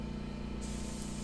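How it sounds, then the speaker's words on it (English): Spray primer hisses from a spray gun onto wooden dresser drawers in a spray booth, a short, soft, steady burst of airy spraying. "now I'm moving into the spray booth, and I'm going to primer these drawers here"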